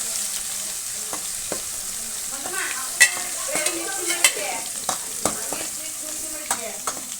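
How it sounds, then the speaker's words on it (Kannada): Crushed garlic fries in hot oil in a pan, crackling steadily while a spoon scrapes and taps the pan in scattered strokes, close up and without talk. "ಬೆಳ್ಳುಳ್ಳಿ ಹಾಕಿಬಿಟ್ಟು ಸ್ವಲ್ಪ ಫ್ರೈ ಮಾಡ್ಕೋಬೇಕು ಬೆಳ್ಳುಳ್ಳಿನ."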